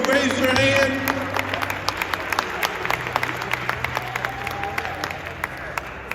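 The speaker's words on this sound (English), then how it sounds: "Give our brother Joe a loving round of applause." An audience at a civil rights gathering claps, loud at first and mixed with talk and cheering, then thinning into scattered individual claps that taper off.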